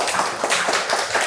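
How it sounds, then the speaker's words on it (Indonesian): Several people clapping hands in a classroom, a short, fairly loud burst of irregular claps with soft noise underneath, no talking. "Tepuk tangan untuk"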